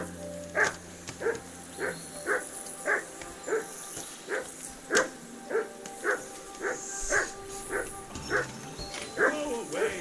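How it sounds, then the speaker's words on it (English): Dog in the video game Kingdom Come II giving a steady series of short yips and whimpering barks, roughly every half second, close and clear over a faint insect-like ambient background. "Go away, Mutt. You'll get nothing from me"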